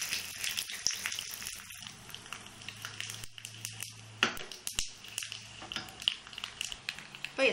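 Curry leaves, chana dal and a dried red chili broken in two crackle and sizzle in hot oil while tempering for mango pachadi, a close, steady frying hiss with sharp pops scattered throughout.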